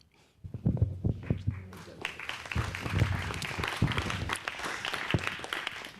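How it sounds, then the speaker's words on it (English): Audience applause at a county sheriff's candidate forum in Santa Fe: a dense, steady wash of many hands clapping after an introduction, filling the room with a few voices mixed in. "If you want to continue clapping, that's fine."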